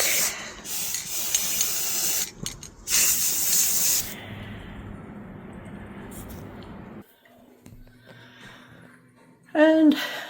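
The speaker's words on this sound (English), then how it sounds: "we're going to spray paint it black" Aerosol spray paint being sprayed onto a wooden sign to turn it black, loud hissing bursts in several passes, then quiet with a voice speaking.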